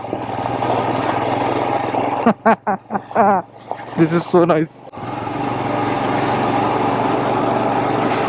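A Royal Enfield Scram 411 motorcycle engine drones steadily while riding, with wind rush blending in. It drops out briefly while a rider speaks in short phrases over a quieter hum, then returns.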